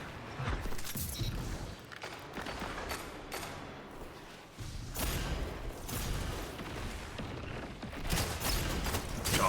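Shotgun blasts go off in a first-person shooter match, heavy booming shots coming one after another at an irregular pace amid the clatter of the fight, loud and close, with no talking over them.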